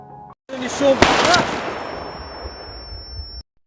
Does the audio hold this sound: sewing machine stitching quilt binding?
no